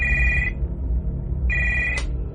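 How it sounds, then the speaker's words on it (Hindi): Telephone ringing in two loud electronic bursts separated by a short pause, close, over a low steady hum, with no voices. "ठीक 15 मिनट के बाद मेरा फोन फिर से बजा"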